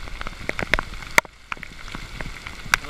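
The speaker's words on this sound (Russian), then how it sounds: "Вот это дождик, я понимаю." Heavy rain during a thunderstorm at abandoned barges near Stanislav, Kherson. Close drops patter and splash irregularly on surfaces, with scattered sharper hits over a steady wet hiss.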